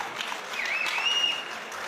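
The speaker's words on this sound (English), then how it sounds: "A round of applause for our boxers." An arena crowd at a boxing event applauds the fighters after an eight-round bout. A short burst of steady clapping carries a whistle rising through it.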